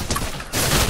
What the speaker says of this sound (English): freaking Venom was shooting at you